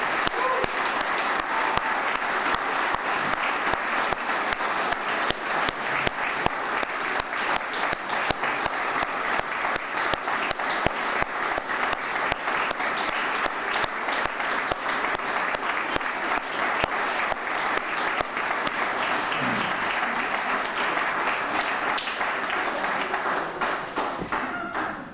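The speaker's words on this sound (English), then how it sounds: "Let's give them a round of applause." Sustained applause from an audience at a Springfield Police Department promotion ceremony, a dense, even wash of many hands clapping that carries steadily for about twenty-five seconds before fading out.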